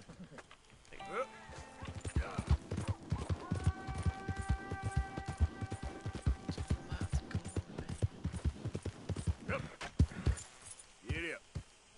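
A horse's hooves clip-clop in a steady, brisk rhythm in the open-world western game Red Dead Redemption 2, fairly quiet, with tonal game music and a voice talking over parts of it.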